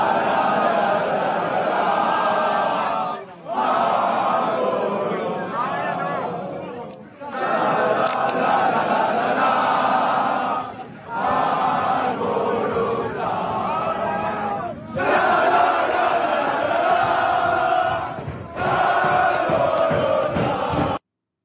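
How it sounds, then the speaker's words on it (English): Loud crowd of more than 100 Spanish football fans chanting and roaring at a Harrogate Town non-league match in England, sustained surging waves of voices with brief dips between bursts. "a collection of over 100 Spanish fans, like from Spain, at a Harrogate Town match"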